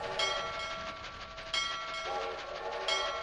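Train sound effect from the Reading Blaster educational video game: a clean synthetic chugging loop with a bright whistle-like tone that repeats about three times, close and clear, with no talking.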